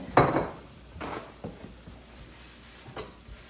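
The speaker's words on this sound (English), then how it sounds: "I'm going to scrape this into a bowl." Fried rice scraped from a pan into a bowl, with a loud scraping clatter at the start, then a few lighter scrapes and taps of utensil on cookware, close by with no talk.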